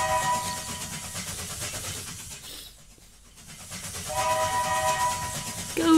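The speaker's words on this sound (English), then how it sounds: "Go, little choo-choo train!" A toy-like train in the LetterSchool iPad app chugs along with a tooting whistle, pausing briefly in the middle before the rattling rhythm and whistle return loudly.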